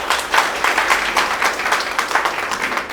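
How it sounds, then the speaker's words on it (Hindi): Loud applause from an audience at a business success-story event, dense steady clapping carrying through the whole stretch with no talk over it. "एक बार उनके लिए जोरदार ताली बजा दीजिए।"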